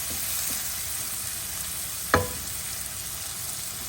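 Onions frying for a tomato curry are stirred in a pan, with a steady low sizzle throughout and one sharp scrape or clank of the spoon partway through.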